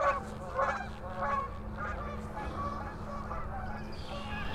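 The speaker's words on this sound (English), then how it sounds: "geese are being very vocal today." Geese honk repeatedly in loud, overlapping bursts outdoors, a steady flock chorus over a constant low hum and background noise.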